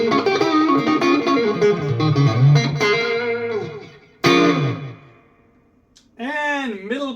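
Distorted electric guitar with an MDF body, a Univox, plays riffs and bent notes at moderate loudness, with a short pause before a final phrase of wavering bends.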